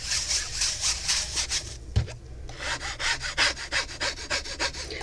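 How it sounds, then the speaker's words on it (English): Stuck embossing powder is scraped off a slick crafting surface in a quick run of rhythmic, rasping back-and-forth strokes, close and steady, with a brief thump midway before the scraping resumes. "Some of this stuff that stuck was that extra embossing powder that fell off the side, so I'm just scraping it off"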